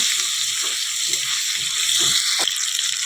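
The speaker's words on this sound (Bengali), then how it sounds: "আমি এখন মাংসগুলো দিয়ে দিব দেখো নুন হলুদ দিয়ে আমি এগুলো লাল করে ভেজে নেব" Chicken pieces fry in hot oil with salt and turmeric in a home kitchen, giving a loud, continuous close sizzle with a few soft stirring sounds and no talking.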